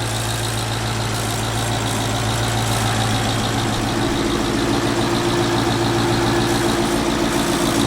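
A 2018 Mustang GT's engine idles steadily and close by for the whole stretch, a continuous low rumble with a faint whine above it and no talking.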